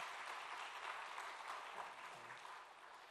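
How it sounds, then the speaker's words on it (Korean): A church congregation at a worship service claps in thanks, a steady, full wash of applause that eases slightly toward the end, heard alone without talk. "한 번 더 감사의 박수 한번 합니다"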